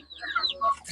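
A mother hen and her chicks in a coop let out brief clucks and thin high peeps in a quick cluster, close and fairly loud, with no talking.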